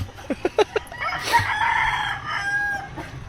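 Several short, sharp clucks from a chicken on a private property by a fishing pond, then a longer crowing call. It is close and fairly loud, with no talking.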